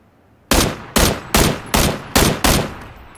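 Gunfire in the video game PUBG: six loud, sharp shots in an even, rapid rhythm, each with a short decaying tail, heard alone with no talking.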